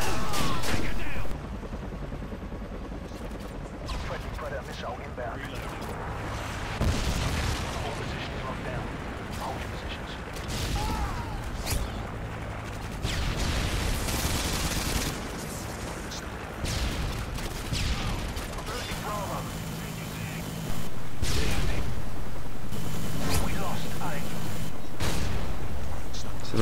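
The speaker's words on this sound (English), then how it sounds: "Predator missile inbound." Predator missile strike explosions in Modern Warfare 2 on the Favela map, a loud continuous barrage of gunfire and booming blasts with rumbling debris throughout, dense and unbroken, growing heavier near the end.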